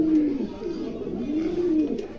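A pair of silver shoking pigeons coos in a steady, rolling rhythm, with several soft repeated coo phrases close by and a low hum of background noise.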